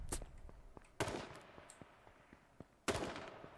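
Distant gunshots crack out sporadically in the video game Paladins, a few sharp loud bursts separated by quieter scattered pops, all fairly faint overall.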